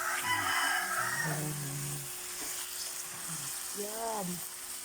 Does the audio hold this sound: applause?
no